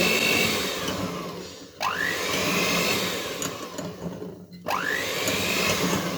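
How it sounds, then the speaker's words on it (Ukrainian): Electric hand mixer whips egg yolks with sugar and starch in a bowl, a steady loud whir with two sharp rising pitch swoops as the speed changes, no talking. "Збиваю до повного розтворення цукру і додаю зараз сюди крохмаль. І перебиваю."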